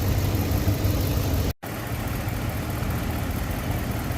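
A car engine idles with a low, even rumble while coolant is being bled with the heater running, broken by a split-second dropout of silence before the hum resumes unchanged.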